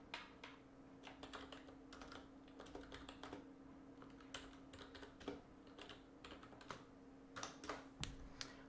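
Typing on a computer keyboard, quiet irregular bursts of key clicks and taps close by over a faint steady hum.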